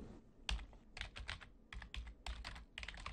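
Rapid typing on a computer keyboard while renaming a map layer in Excel, with bursts of clicking keystrokes in uneven clusters, close and fairly quiet.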